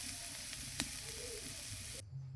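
Chutney made with green chillies sizzles steadily as it fries in a pan, a continuous close hiss with one brief sharp crackle partway through, cutting off near the end.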